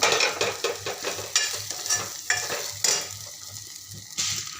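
A medium-sized chopped potato is stir-fried in a pan, close and clear: a soft sizzle under repeated scraping strokes of a spoon against the pan, arriving in irregular bursts that thin out toward the end.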